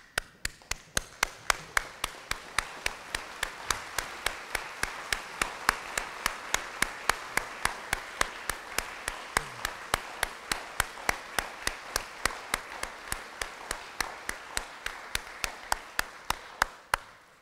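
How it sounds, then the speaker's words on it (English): A standing church congregation claps in steady unison at a donor appreciation gathering, sharp regular claps landing roughly three per second for a long stretch, moderately loud and without talk. "give God for them a hand clap of praise"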